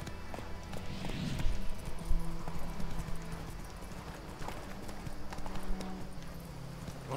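Horse hooves clip-clop steadily in The Witcher 3 game, a rhythmic trotting patter over ambient game sound with a brief whinny-like note, moderately close and continuous throughout.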